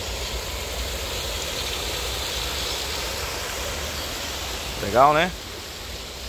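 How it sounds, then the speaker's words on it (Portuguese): A stream's running water rushes outdoors as a steady, even broadband wash throughout, with someone briefly speaking over it near the end. "Ó, olha o barulho da água."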